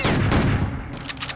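Gunfire in the 1997 PC shooter Outlaws, a dense, booming burst of shots up front that thins into sharper, scattered cracks over just over a second.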